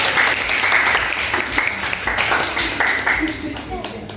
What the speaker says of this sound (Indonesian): Beri tepuk tangan, guys.